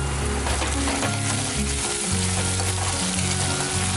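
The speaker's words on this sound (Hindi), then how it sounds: "प्याज ब्राउन हो गया है, अब इसमें डालेंगे बारीक कटी हुई हरी मिर्ची।" Finely chopped green chillies hit browned onion in a hot pan, giving a loud, steady sizzle and crackle of frying, with brief stirring scrapes and no voices.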